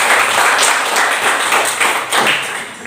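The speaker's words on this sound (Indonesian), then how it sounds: "Iya, tepuk tangan dulu." A school class clapping hands together at the start of a lesson, a loud, dense burst of claps from a room of students that runs steadily and fades slightly near the end.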